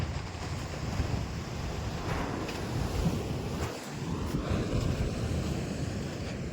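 Sea waves roll onto the shore at Vengurla, a continuous rushing wash heard from nearby, mixed with steady wind noise buffeting the microphone.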